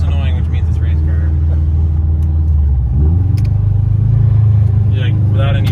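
A 600hp turbocharged car engine drones steadily while cruising without boost, a loud, close, low rumbling hum that shifts pitch briefly midway, with people talking over it.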